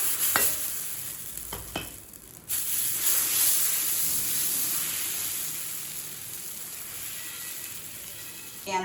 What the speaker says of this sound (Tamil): தோசைக்கல் சூடாகிடுச்சுங்க,